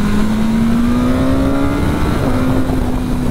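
BMW S1000R motorcycle accelerating hard with a quickshifter, the engine note climbing steadily with a brief blip at the shift before pulling on, loud and close with wind rush and no talk.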